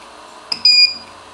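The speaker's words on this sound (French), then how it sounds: "il faut bien que l'imprimante fasse un bip" Two short electronic beeps, the second longer and steadier, sound clearly over a quiet mechanical hum from a 3D printer.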